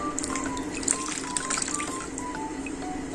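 Water being poured or swirled in a wash bowl, a steady liquid splashing and trickling that runs continuously at moderate loudness with small droplet clinks on top, no voices.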